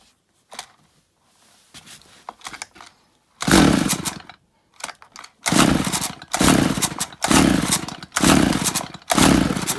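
A chainsaw is pull-started again and again without catching: faint handling noises first, then a run of loud, rasping bursts about a second apart, each cutting out abruptly as the engine fails to run.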